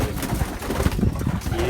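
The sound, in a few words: Amber Sira pigeon cooing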